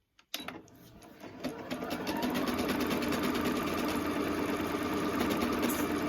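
A sewing machine stitching out letters runs with a steady rapid mechanical whir and needle chatter. It starts after a brief click and stays continuous and close, with no speech.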